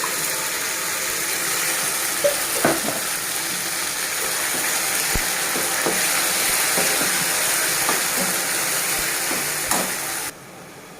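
Mint paste sizzles in a frying pan with onions, a steady broadband hiss with scattered stirring scrapes and clicks throughout, loud and close, cutting out abruptly near the end.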